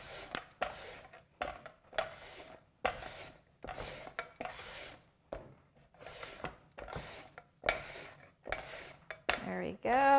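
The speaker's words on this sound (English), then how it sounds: "I'm going to go ahead and grate the cucumber right in here as well" Cucumber rasped against a grater over a bowl, a run of rhythmic scraping strokes in short bursts with brief pauses, close and moderately loud, with a few light clinks near the end.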